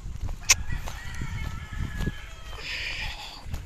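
Chickens on a Filipino farm lot with goats and ducks, clucking and crowing faintly in the mid-distance over a low rumbling background, with a sharp call near the start.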